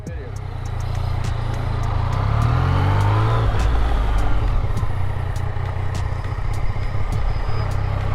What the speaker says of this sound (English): So pull up right there and do a burnout.